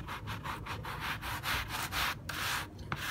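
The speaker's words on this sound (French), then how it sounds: "on frotte de façon harmonieuse donc sur tout le tapis" Foam is scrubbed into a car floor mat with a brush in quick back-and-forth strokes, a close, steady, rhythmic rubbing and scratching with no voices.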